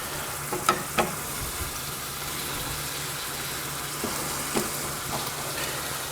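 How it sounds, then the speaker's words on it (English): Steady frying sizzle of pork shanks and onions in a hot pan for ossobuco, with a few soft clicks and knocks of meat and utensil against the pan, no talking. "So I'm just going to push the onions aside, and we'll put the meat back in the pan."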